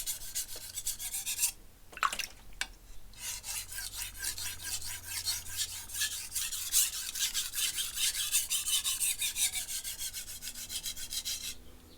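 A knife blade is drawn back and forth over sandpaper with light pressure, producing rhythmic dry rasping strokes after a few short scrapes, close and fairly quiet with no talking.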